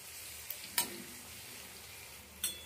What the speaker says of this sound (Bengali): মশলাটাকে খুব ভালো করে কষিয়ে নিতে হবে যাতে কাঁচা গন্ধ না থাকে।